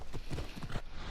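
Horse hooves clip-clopping in Assassin's Creed Odyssey, a quick run of rhythmic thuds repeating several times over a steady game background, close and fairly loud with no talk.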